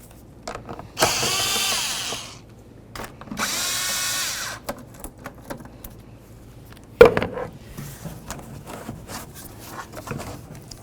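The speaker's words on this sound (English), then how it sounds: "Loosen this clamp and this one right down here." A power tool loosens the air intake clamps on a 2007-2017 Ford Expedition during valve cover work: two close, whirring bursts a couple of seconds apart, then a sharp clank and light handling noises.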